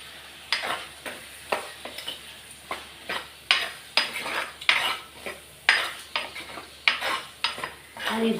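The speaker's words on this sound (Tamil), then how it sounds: "அதையும் போட்டு நல்லா வதக்கிப்போம்" Onions and tomatoes sautéed in a pan for kathirikai kulambu, a metal spoon scraping and clanking against the pan in a steady rhythm of about a dozen strokes over a low sizzle, close and clear, no speech.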